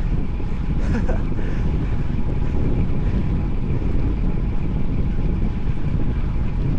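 Strong wind buffets the microphone during a long bike ride, a steady loud broadband roar that fills the whole stretch without letup.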